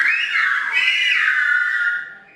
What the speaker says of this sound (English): The whistles mimic the sound of spoken Spanish